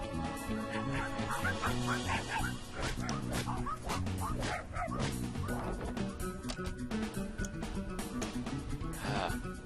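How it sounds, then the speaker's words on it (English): A cartoonish dog barks and yips in the video game Finding Paradise, the repeated barks set over busy game music and effects that play continuously throughout. "Rude Dog joined the party."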